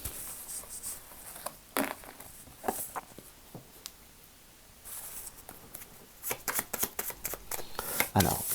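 Tarot cards are shuffled for a yes-no draw, crisp riffling and flapping bursts coming in irregular clusters, close and fairly quiet, with short pauses between shuffles.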